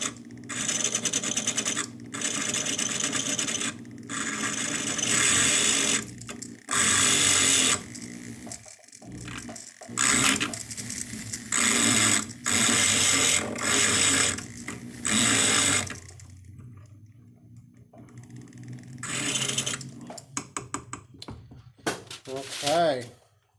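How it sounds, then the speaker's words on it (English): A small wheel grinds the inside of a precious-metal ring band, giving repeated close rasping, whirring bursts of several seconds each, separated by short pauses, with speech heard at times in between. "we're going to grind the inside of the band"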